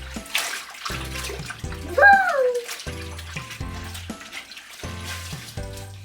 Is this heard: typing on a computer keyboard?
no